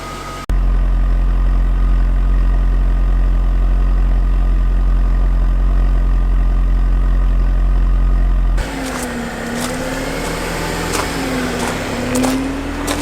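Jaguar XJ8 X308 engine idling after an alternator change, a steady low rumble for most of the clip before the sound shifts to a different, closer engine and mechanical noise near the end.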